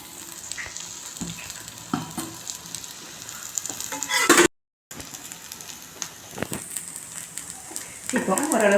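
Oil poured around a breakfast dosa on a stone griddle over a medium flame sets off a steady crackling sizzle, close and fairly loud, with a brief dropout midway and a sharper spatter near the end.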